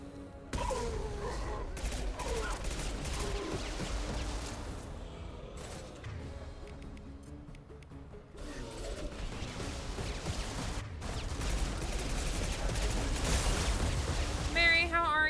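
Heavy, sustained gunfire in Mass Effect 2 combat rattles on continuously under dense game effects and music, with voices speaking intermittently through the barrage.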